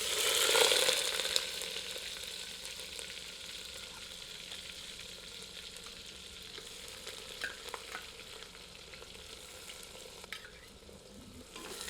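Onions sizzle and fry in hot oil with whole spices for a clay-pot handi chicken curry, a steady bright crackle that swells loudest near the start when stirred, then settles into a continuous even hiss with no talking.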